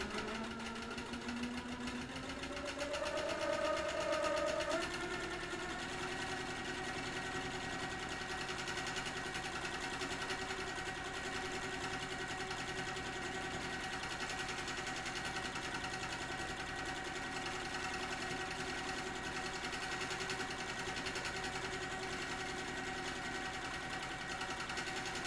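Sewing machine free-motion quilting a ribbon candy pattern, a continuous steady motor whir and needle hum that shifts pitch briefly near the start, then runs evenly, close and moderately quiet, no talking.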